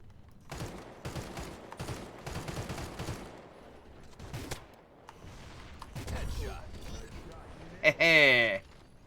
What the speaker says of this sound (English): Feels like a lot of snipers just shooting across the map.